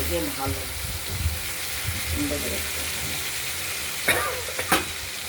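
Spice paste of cumin, radhuni, green chili and turmeric sizzles and hisses in a hot wok, with a couple of sharp clatters of a utensil near the end.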